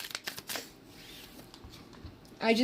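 Quick papery tarot card riffles and slides, close and soft, with a brief louder rustle near the end.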